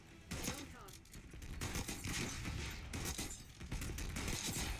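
Rapid gunfire from a gun in the video game Call of Duty, dense repeated bursts of shots and mechanical clatter running nearly continuously, loud and close within the game's busy soundscape.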